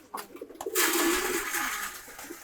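Caged male pigeons cooing, a soft low coo over a short stretch, with a brighter fluttering rush of noise running through most of it.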